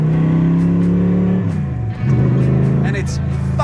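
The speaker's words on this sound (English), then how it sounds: "These side pipe exit exhausts come down and exit just past my hip, near my ear." A Superformance Daytona's side pipe exhaust drones loudly and steadily, then the revs drop and the engine settles into a throaty rumble, with a brief higher rasp near the end.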